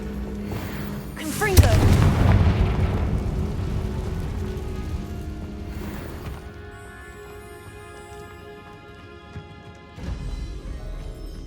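Fire-spell blasts in Hogwarts Legacy set off inside a cavern: a sharp, loud burst followed by a long rumbling decay and debris tail, with a second softer boom near the end over low ambient drone.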